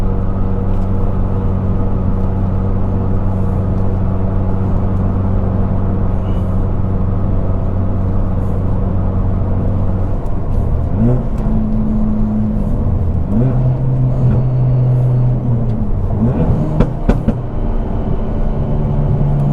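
A 2017 Ford Focus RS on an E40 auxiliary-fuel tune pulls hard in third gear, its engine note droning steadily and loud from the cabin before rising and shifting pitch as it accelerates, with no talking.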